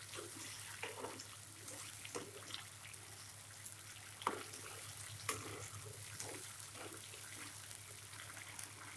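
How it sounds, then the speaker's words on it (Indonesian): Liquid with turmeric and coriander bubbles and simmers in a pot, a soft steady gurgle with occasional pops over a low constant hum. "Mendidih ya sahabat."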